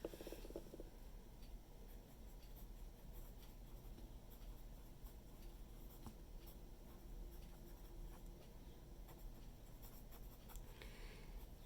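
Steady scratching of writing by hand as a math lesson is worked out, continuous and close, with no talking over it.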